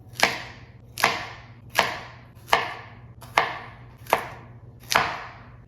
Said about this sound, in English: We start out by halving the radishes.